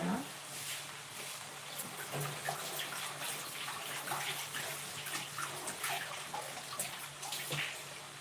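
Coriander leaves are rinsed under a running kitchen tap in a steady, moderately loud splashing stream that continues throughout with slight fluctuations.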